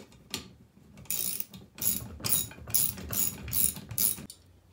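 Bolts being tightened with a ratchet during assembly of a Chaplin fertilizer and seed spreader: a run of quick, close ratcheting clicks in about half a dozen short bursts, with brief pauses between them and no talk.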